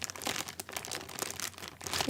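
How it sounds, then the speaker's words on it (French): A plastic bag is gently handled close up, giving continuous soft crinkling and rustling with small crackly peaks throughout. "le sac plastique, je pense que je peux essayer doucement de faire des bruits un peu sympas"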